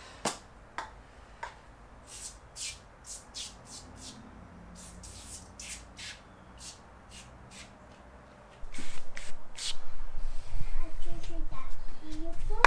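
Repeated short hissing spray bursts of cleaner onto Harley-Davidson Softail motorcycle forks in quick irregular succession, close by, followed by a louder stretch of steady spraying noise.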